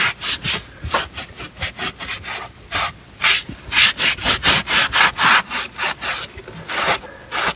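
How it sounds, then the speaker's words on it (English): A rag wiping a freshly sanded cast iron drain pipe, rapid rhythmic back-and-forth rubbing strokes, close and fairly loud, in short bursts with brief pauses, no talking. "I'm just going to wipe it off."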